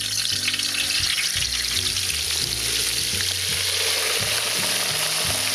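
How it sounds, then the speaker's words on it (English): Loud, continuous frying and sizzling as a turkey is slowly lowered into hot oil in a deep fryer, a steady bubbling hiss with low thumps underneath and no talk. "it's very important to lower the turkey into the oil very slowly. And don't be surprised if it pops and sizzles"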